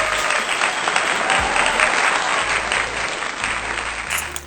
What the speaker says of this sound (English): Let me get a hand clap for that.